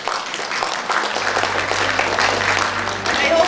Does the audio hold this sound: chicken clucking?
no